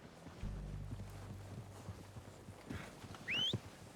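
Horses approach in the Red Dead Redemption 2 video game with a muffled run of hoof clip-clop and low rumble, followed by a brief high whinny near the end, all moderately quiet in game ambience.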